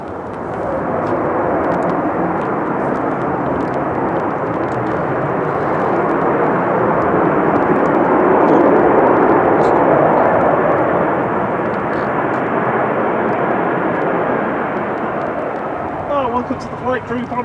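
A Ryanair jet arriving from Dublin at windy Manchester Airport, a loud broadband engine roar swelling and fading over the clip, with wind and a voice talking near the end.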